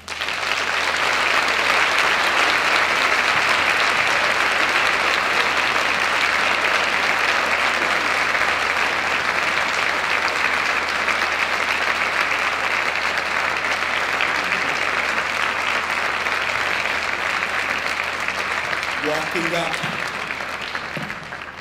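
An audience applauds at a talk about schools, loud sustained clapping from a large crowd that holds steady and then fades slightly at the end, with a brief voice near the close.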